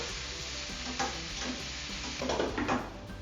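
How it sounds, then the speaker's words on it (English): Green peppers and onion for a seafood stew are stirred in a pot, a close sizzling fry with soft scraping stir strokes near the end. "The green peppers. And the onion. Give that a stir."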